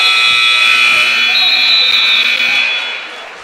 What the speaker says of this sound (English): Just before the end of the third quarter buzzer.